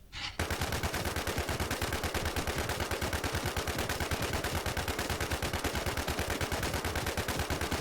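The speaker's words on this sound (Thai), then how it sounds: "แล้วก็รัวกระสุนเลยครับ" A long, unbroken burst of rapid automatic fire shoots zombies in the video game Infestation at an airport boss area. The rattle is loud and steady after a brief quiet start, with no voices.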